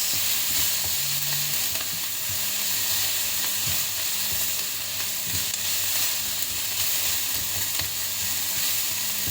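Bolognese sauce ingredients fry in a pan, a steady close sizzle and crackle with occasional stirring clinks running unbroken throughout.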